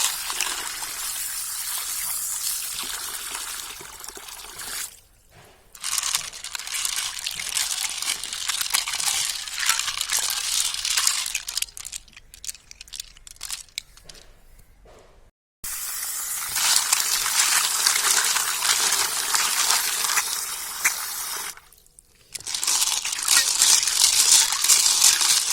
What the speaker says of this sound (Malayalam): നമുക്കിത് നന്നായിട്ട് ഉരച്ച് കഴുകണം കേട്ടോ, വെള്ളം ഒഴിച്ചിട്ട്